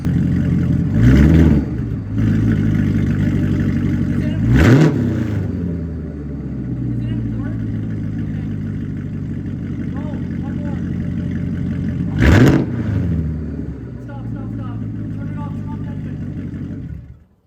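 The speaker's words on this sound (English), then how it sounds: "Give it a rev. All right, I'm gonna rev it." A rebuilt Corvette engine idling with a low rumble and revved three times in sharp, loud rises and falls, while people talk nearby over the running engine.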